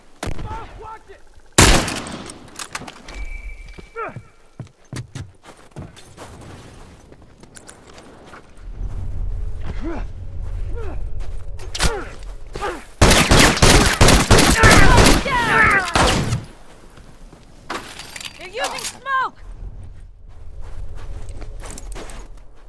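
Sniper rifle fire in the video game The Last of Us: a sharp crack early, scattered footsteps and movement, then a dense, loud flurry of shots in the middle, with voices talking in between.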